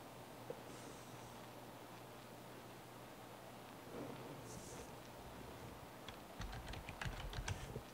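A computer keyboard being typed on while a login password is entered, a short burst of light clicking keystrokes near the end, faint and close over a steady background hum, with no talking.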